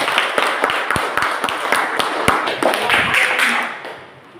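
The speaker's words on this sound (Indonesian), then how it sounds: "Kita berikan tepuk tangan kepada kelompok 1." A classroom audience applauds a presenting student group, with a crowd of hands clapping at a fast, fairly steady rhythm that is close and loud, then fades out at the end.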